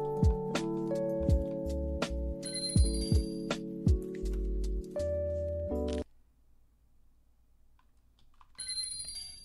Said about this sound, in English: Asai, can you turn off the dono noise?